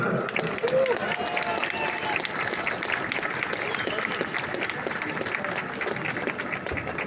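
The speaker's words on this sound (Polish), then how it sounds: "Dajcie im wielkie brawa za ich wielką pracę." Crowd gathered before the Independence March applauds the guards who keep the march safe, a continuous wash of clapping spread across a large outdoor gathering.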